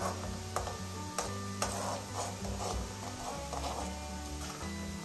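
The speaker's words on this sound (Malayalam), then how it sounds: "തേങ്ങ കരിഞ്ഞു പോവാതെ ഇളക്കി ഇളക്കി ഒരു ലൈറ്റ് ബ്രൗൺ കളർ ആകുമ്പോഴത്തേക്ക് നമുക്ക് കോരിയെടുക്കാം." Grated coconut frying in a pan gives a steady, moderately quiet sizzle, with intermittent scraping and clicking as a utensil stirs it and a low hum running underneath.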